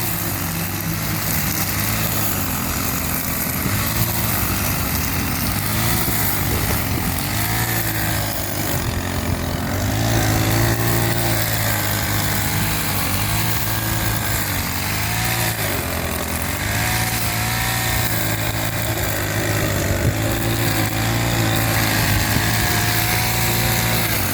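Bicycle-mounted brush cutter with a small engine held at full revs, a loud, continuous high-pitched buzzing whine close by, wavering slightly in pitch with no letup across the whole run.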